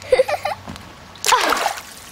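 Water splashes in a pool, a brief burst of sloshing and splatter after some light sounds at a toddlers' pool party with floaties.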